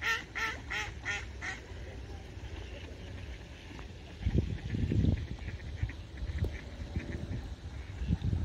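Ducks quack in a short rapid run at the start, then fall quiet under steady wind and low rumble, at Warsaw's Royal Łazienki Park on a snowy evening during a blizzard.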